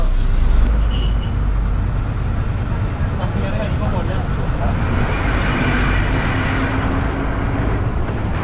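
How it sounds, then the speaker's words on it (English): A brightly decorated bus on a road in Galle, Sri Lanka, with a steady loud rumble of engine and traffic throughout, voices talking over it. "look at this bus. Really nicely decorated."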